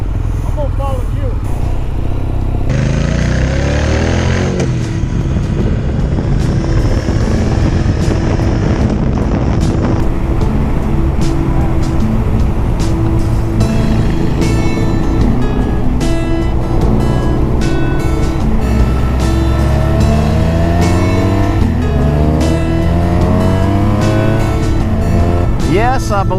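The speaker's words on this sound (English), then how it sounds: "Got a really good exhaust sound. That sounds pretty good." Triumph Bonneville T120, a water-cooled 1200cc British motorcycle from 2018, rumbles steadily through its exhaust while riding, a loud continuous engine drone mixed with wind noise, with talk over it.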